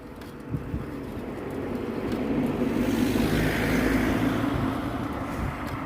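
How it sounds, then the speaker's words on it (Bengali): A car passes along a quiet village road in rural Italy, a broad low rumble swelling from the start to a peak midway and holding steady, heard alone without talk. "ওই যে কতক্ষণে একটা মতো গাড়ি দেখতে পাইলাম।"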